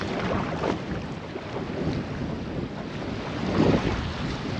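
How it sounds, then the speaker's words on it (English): Steady wind buffeting the microphone aboard a fishing boat out over a wreck, a constant low rumbling roar with a slightly louder gust near the end and no voices. "Still a little bit of lag, just with this wind. You can definitely pick it up on the mic, I'm sure."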